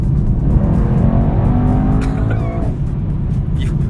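A Mercedes-AMG E63 S performance car is driven hard, its engine roaring loud and steady for the whole stretch while the tyres squeal in brief rising bursts partway through.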